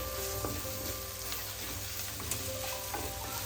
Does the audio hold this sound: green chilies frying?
yes